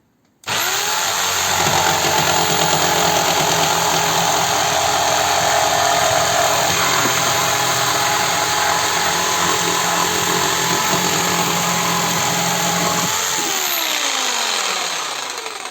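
A RONIX 4111 electric jigsaw cuts through a workpiece: the motor spins up sharply and holds a loud, steady buzzing whine for about twelve seconds, then winds down.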